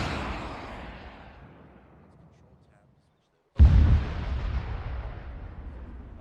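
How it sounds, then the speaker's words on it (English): Rocket fire in Arma 3 weapons training, a heavy blast that trails off into a long fading rumble, then after a moment of silence a second loud, sudden boom followed by sustained roaring decay. "Rocket, rocket, rocket."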